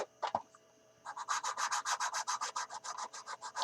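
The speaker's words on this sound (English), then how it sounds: "Your main aim is sand these seams out like I'm doing right here." Rapid rhythmic rasping of sandpaper smoothing seams on a 1/72 Airfix Short Sunderland plastic model kit, a few scratchy strokes then a steady back-and-forth run of quick strokes up close.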